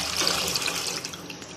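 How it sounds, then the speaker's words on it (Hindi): Milk pours into a pan in a brief, steady splashing stream, close and moderately loud. "इसके अंदर हम दूध ऐड करेंगे।"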